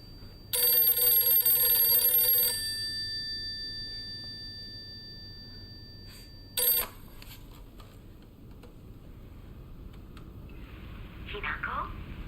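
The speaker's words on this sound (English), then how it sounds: "That phone is loud." A loud, shrill electronic telephone ring in the video game Silent Hill f, sounding in a two-second burst, then a brief second burst, followed by quiet ambience and faint movement.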